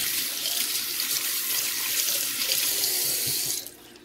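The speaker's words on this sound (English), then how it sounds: "So I'm going to wash my hands again." Hands washed under a running kitchen sink tap, a steady broad rush of water close up with no talking, cutting off abruptly near the end as the faucet is shut.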